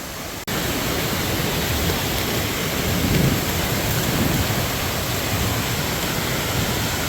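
A steady, loud broadband roar of a waterfall fills the whole stretch without pause after a brief quieter start, heard close by on a gold prospecting outing.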